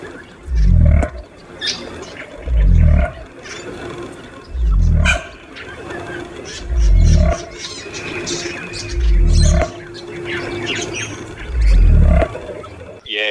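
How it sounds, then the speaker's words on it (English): A cassowary repeats deep, low booming calls about every two seconds, each a heavy thudding pulse like a bass drum, steady and close, with faint bird chirps in the background. "their low-frequency booming, which kind of sounds like a drum and bass party bass line"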